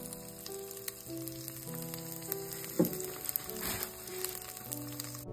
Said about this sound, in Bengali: সর্ষের তেল দিয়ে দিয়েছি কালো জিরে ফোড়ন, আর এখন দিয়ে দেবো অল্প একটুখানি হিং